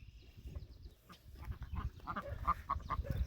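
Ducks quacking and calling nearby on a farm, a scattered series of short nasal calls, some overlapping, with outdoor background noise.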